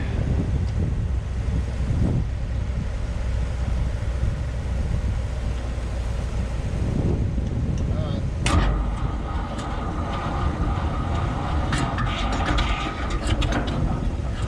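An International Harvester TD15 151 crawler dozer, running on bad gas, rumbles amid steady wind-like noise, then catches with a sharp burst partway through and keeps running with a rougher, busier engine sound.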